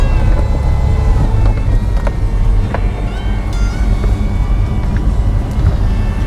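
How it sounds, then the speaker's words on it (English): Power roof of a 2022 Porsche 911 (992) Cabriolet lowering, with a constant low motor hum and faint mechanical whirring under steady wind and engine noise, plus a few light clicks and squeaks. "lowering the roof is as easy as lowering a window. Simply one touch of a button and a party trick commences."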